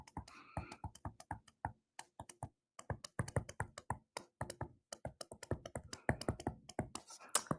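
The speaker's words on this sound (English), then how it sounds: "I type that all in and I hit enter" Calculator keys are tapped quickly by hand, ending with a press of enter, as a rapid uneven run of small close plastic clicks with brief pauses, fairly quiet and with no voices.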